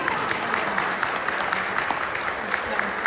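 An audience in the Senate chamber in Ottawa claps steadily in a dense, even round of applause.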